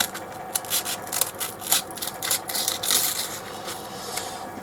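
Hand sanding a rough piece of wood with 120 grit sandpaper for a turned goblet, with steady rasping back-and-forth strokes in a close, continuous rhythm and no talking.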